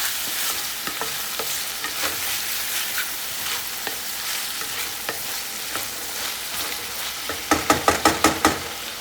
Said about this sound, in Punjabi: ਤੇ ਨਾਲ ਹੀ ਪਾਵਾਂਗੇ ਆਪਾਂ ਮਟਰ ਤੇ ਆਪਣੀ ਬੀਨਸ ਇਹ ਹੁਣ ਬੀਨਸ ਨੂੰ ਜਿਹੜੀ ਮਿਕਸ ਵੈਜ ਵਿੱਚ ਸੀ ਹੈ ਨਾ ਇਹ ਪਾ ਦਿੰਦੇ ਹਾਂ